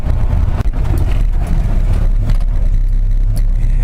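A 1959 Ford F100 pickup truck pulling over, its engine a loud, steady low rumble with road and cabin noise throughout and no speech.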